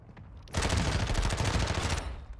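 Rapid automatic gunfire in Warzone 2 erupts suddenly and rattles on continuously for about a second and a half, loud and close, then cuts off.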